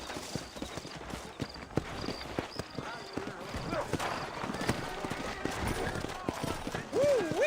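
Steady hoofbeats clip-clop at a trot beneath a man's speech in Red Dead Redemption, with a brief horse whinny near the end.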